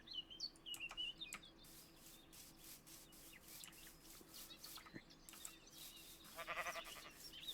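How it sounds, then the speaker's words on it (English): Sheep bleating in the Minecraft video game, faint and brief near the end of the clip over a quiet rustling background. "Hello, sheepy sheeps."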